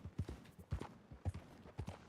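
Horse hooves in a video game clip-clop in a steady walking rhythm, paired thuds repeating about every half second, close and distinct with no talk.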